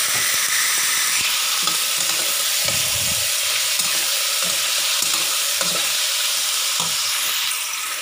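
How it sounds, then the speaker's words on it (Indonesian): Quail eggs and sugar sizzle and fry in a hot pan with steady crackling and occasional stirring scrapes, close and continuous throughout. "Kalau udah kering, langsung aja kita masukkan telur dan gula."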